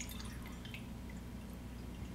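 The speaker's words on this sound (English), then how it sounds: "So I'm going to add 2 cups of water." Water trickles and drips steadily into a pot holding a cup of quinoa, a quiet, continuous pouring sound with a low hum underneath.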